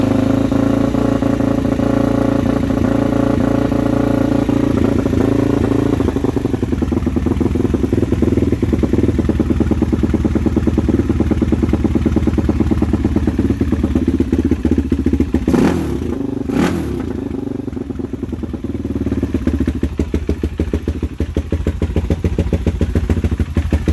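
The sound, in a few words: Suzuki LTZ400 ATV engine running at high idle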